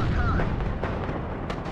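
Artillery fire in the WARNO war game rumbles as a heavy, continuous booming roar with a few sharper blasts, loud and close, with a voice talking over it.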